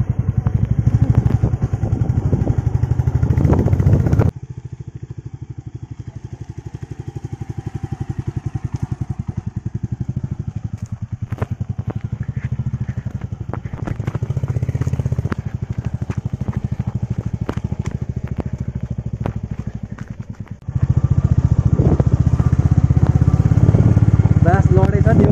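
A Royal Enfield Classic 350 motorcycle rides through a Sikkim village, its engine a steady, loud, close rumble that eases in the middle and swells again, while someone talks over it.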